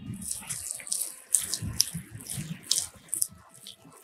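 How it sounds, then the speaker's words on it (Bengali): Urad dal (kolai dal) paste being beaten and aerated by hand with a little water for boris, giving wet squelching slaps and splashy rubbing in an irregular rhythm, close and fairly quiet. "হাত দিয়ে এরকম করে ভালো করে ফেনিয়ে নিচ্ছি।"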